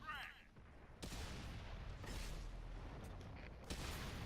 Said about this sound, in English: There is someone shooting for me from the back.